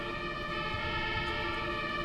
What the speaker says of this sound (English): that European siren does not belong on this route